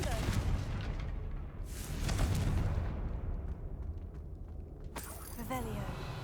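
A Confringo fire spell explodes in Hogwarts Legacy, heard as deep rumbling booms with a sustained crackling blast that swells near the middle, followed by a sharper burst near the end, with a voice talking over part of it.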